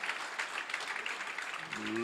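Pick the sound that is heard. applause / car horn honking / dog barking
applause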